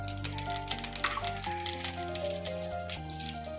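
A handful of curry leaves crackles and sizzles in hot oil in a pan while a colocasia fry is being made. The frying hiss runs steadily under background music.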